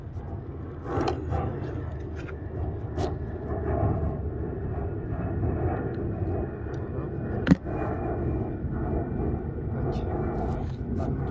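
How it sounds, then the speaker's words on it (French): A light propeller airplane on a tourist flight drones steadily overhead at a gravel-pit fishing spot for sturgeon and carp, a continuous engine hum with a brief sharp knock partway through. "Les avions, c'est du tourisme dans la région."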